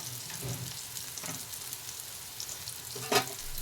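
Brinjal fries in oil in a pan, a soft continuous sizzle with a few stirring scrapes and one sharp clink near the end.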